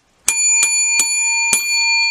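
Four bright bell chimes from an online lottery scratch-ticket game, each ringing with sustained tones, spaced irregularly about half a second apart and clear with no talk.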